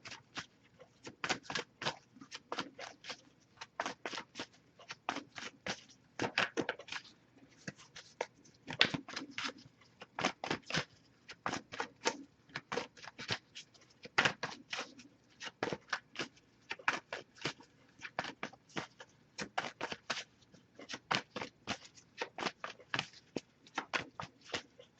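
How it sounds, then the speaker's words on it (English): Rapid, crisp riffling of tarot cards being shuffled, repeated in steady bursts for a long stretch, fairly quiet and close, with no talking. "I'll give it a few more shuffles."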